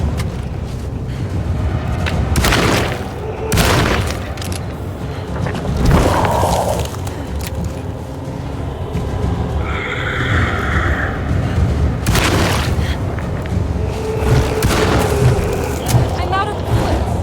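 Gunfire in the horror video game Dead Space: several sharp, loud booming shots at irregular intervals over a dense, rumbling game soundscape, with voice-like sounds mixed in.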